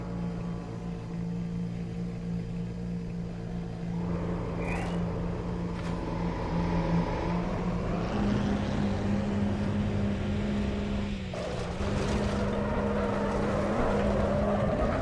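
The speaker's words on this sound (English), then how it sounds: "You hear that tire screeching and I can't even steer the car." Damaged race car in Assetto Corsa Competizione with a steady engine drone and a rising, sustained tire screech building across the middle and late stretch, loud and continuous.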